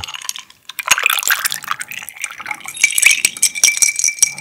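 Soju being poured over a cup of ice, a bright splashing trickle with scattered clinks of ice cubes, close and steady for several seconds with no talking.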